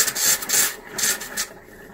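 A camper toilet spurts and spits pink antifreeze during winterizing: irregular hissing, raspy bursts of liquid and air come close and fairly loud, in uneven pulses that fade toward the end.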